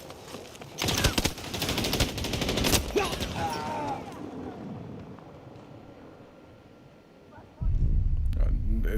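An LMG in Battlefield 2042 fires a loud, rapid burst for roughly two seconds, then fades into quieter wind-like ambience before another loud rush at the end, with players talking over it.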